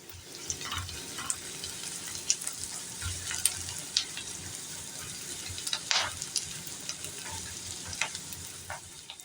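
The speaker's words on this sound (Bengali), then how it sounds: "এই লঙ্কা ভাজারও খুব সুন্দর একটা গন্ধ এসে গেছে" Steady oil sizzling and crackling as chillies fry in a pan with black mustard seeds, with occasional sharp pops and light scraping of a spoon, no voices.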